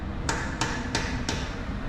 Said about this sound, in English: You can see he's using a hammer now.